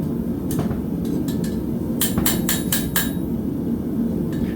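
A farrier's hammer strikes a steel rocker horseshoe with a bent-up toe to seat it on a horse's hoof, sharp metallic blows arriving singly and then in a quick run of four or five close, loud hits.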